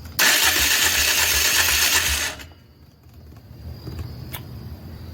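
A 2001 Polaris engine cranks after sitting for three years with no choke and no airbox, giving a loud, rapid whirring starter grind for about two seconds that stops without catching, followed by quiet background noise.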